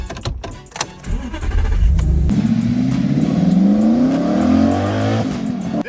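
The 4.2 litre V8 of a 2008 Audi R8 starts with a sharp bark, then revs loud and close, the pitch sweeping up across several rising pulls before it settles back.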